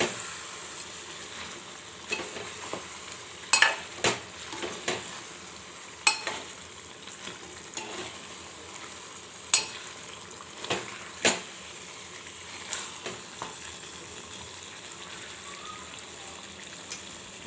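Chicken biryani with biryani masala, garam masala and fresh coriander being stirred in a pot over a village stove: scattered soft scrapes and clicks over a low, steady sizzle, quiet and without talk.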